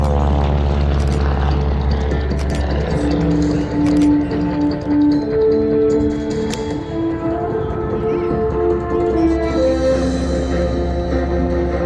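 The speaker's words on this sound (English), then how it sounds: "On the outside of the aircraft, on the javelin struts, doing what it seems to be like flying at Harry Potter style as they make their way up to altitude" A propeller airplane carrying wing walkers on its struts climbs at the 2023 Hammond Northshore Regional Airport airshow, its loud, steady engine drone holding close and continuous with slight shifts in pitch as it gains altitude.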